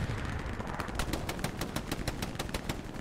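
Rapid automatic gunfire in the World War II shooter Hell Let Loose, a dense stream of sharp cracks at a steady fast rhythm over a rumbling battlefield backdrop, with no talk.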